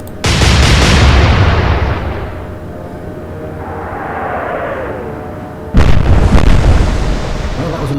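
Naval guns fire in the Atlantic Fleet game, with a heavy booming salvo at the start. A rumbling decay and distant whistling follow, then a second loud burst of shell impacts near the end.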